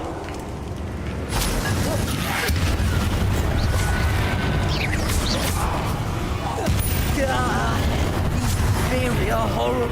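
Incendio fire spell cast in Hogwarts Legacy, a loud sustained roaring burst with booming, crackling bursts and whooshes filling the scene, with a voice shouting over it.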